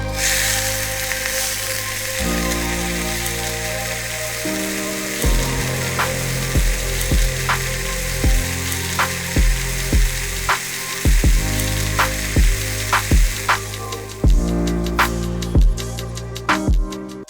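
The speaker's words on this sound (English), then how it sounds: "We'll add that big steak to the pan." A big tomahawk steak sears in a pan with a touch of oil or beef fat, giving a loud, steady, close sizzle with sharp crackles and pops recurring throughout.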